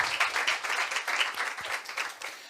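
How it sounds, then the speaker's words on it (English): Faint, steady applause from a forum audience in a conference hall, a soft wash of many hands clapping for a couple of seconds without talk. "So I say a round of applause."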